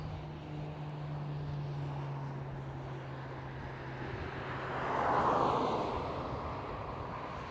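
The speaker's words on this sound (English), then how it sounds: "right here we do see the E195 E2 passing by" An Embraer E195-E2 jet passes by at Amsterdam Schiphol airport, a faint steady engine rumble swelling softly toward the end, with a low droning hum in the background.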